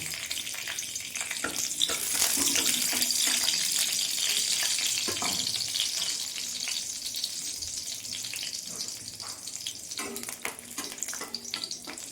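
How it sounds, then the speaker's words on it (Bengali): Whole garlic cloves fry in oil in a wok, giving a steady, close sizzle with scattered crackles that build early and continue throughout, with no voices. "কড়াইয়ে তেল দিয়ে দেব গোটা কোয়া রসুন দিয়ে দেব"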